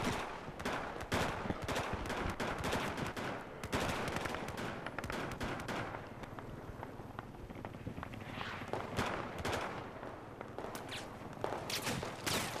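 Rapid bursts of gunfire from the video game Battlefield 4, dense automatic fire and sharp single shots crackling almost continuously, loud and close, with footstep-like clatter mixed in.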